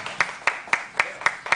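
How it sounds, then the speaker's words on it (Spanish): Steady, evenly spaced claps, about four per second, ring out in a television studio after a folk singer's song on a live afternoon show. The clapping is crisp and rhythmic, with no talking over it. "¡Fuerte el aplauso!"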